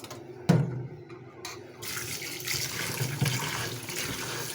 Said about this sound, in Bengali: প্রথমে মাংসটি আমি ভালো করে ধুয়ে নিব।